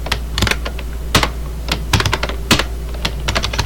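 Keys clatter on a computer keyboard while a simple Python print statement is entered, a quick, irregular run of sharp clicks close by, loud and steady with no talking.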